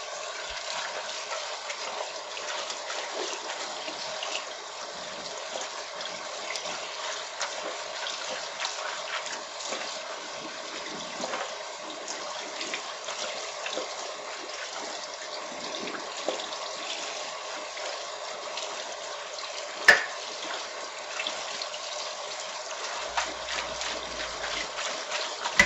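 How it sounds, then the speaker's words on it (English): Kitchen tap running into a sink while a cup of spinach is washed, a steady hiss of flowing water with small splashes and trickles, continuous and close for the whole stretch, one brief knock near the end. "I have 1 cup of spinach and I'm just going to wash"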